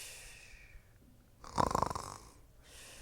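A voice imitates a bear snoring, giving one loud, rasping snore with a rattling vibration in the middle of an otherwise quiet stretch, close and clear.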